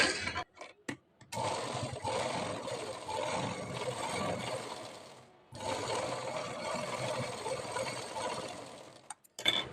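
Sewing machine stitching a princess cut blouse, two long sustained runs of mechanical whirring split by a short pause, fairly close and loud with brief clicks at the start and end.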